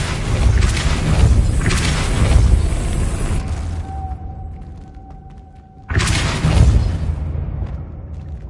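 Loud booming impacts from the Depulso spell in the Hogwarts Legacy video game, a dense rumbling blast that fades to a quiet lull with a faint tone before a second heavy burst hits near the end.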